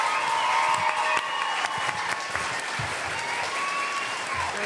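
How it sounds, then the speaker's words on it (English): Audience applause at a fan convention panel, a dense wash of clapping that slowly thins, with a few louder claps near the front. "give a round of applause."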